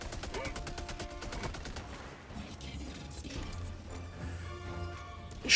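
Rapid automatic turret gunfire in a video game, a fast stream of repeated shots that tapers off, with a voice talking over parts of it.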